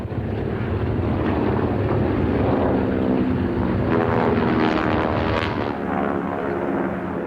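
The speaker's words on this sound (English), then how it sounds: "that tearing sound of 4 Pratt & Whitney Wasp radial engines" Loud, rough roar of four Pratt & Whitney Wasp radial aircraft engines at a 2003 Australian airshow, steady and sustained with a buzzing propeller drone and some wind buffeting.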